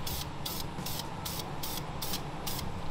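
Short rhythmic bursts of spray paint, primer for a Nardo Gray engine cover, hiss in a steady pulse about every third of a second over a constant low rumble.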